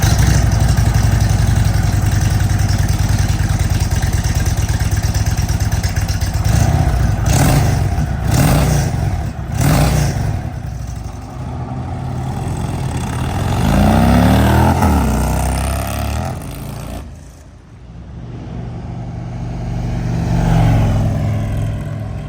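An Indian Springfield motorcycle cold start through a Toce 2-into-1 exhaust, a loud, deep, rumbling idle with throaty revs and blips that dip briefly near the end before settling back into a steady burble.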